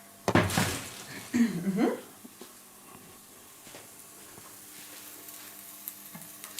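A brief loud sizzle as vegan pancake batter hits a hot frying pan, followed by clattering utensils and a low, steady frying hiss, close by.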